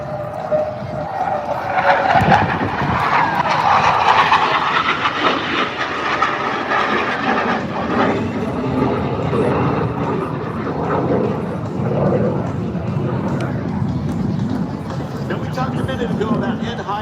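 A Douglas jet aircraft flies past at an air show with a loud, sustained roar that rises and fades. An announcer talks over the engine noise throughout.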